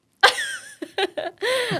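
One sharp, loud sneeze bursts out close to the microphone, followed by a few short breathy vocal sounds and a trailing exhale.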